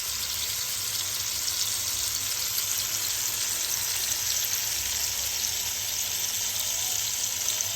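Figs and potatoes roasting in a pan over raised heat, a soft, even hiss of sizzling that holds steady and fairly quiet throughout with no voices.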